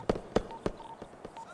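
A short burst of several sharp gunshots, the first three louder and evenly spaced, then fainter shots trailing off.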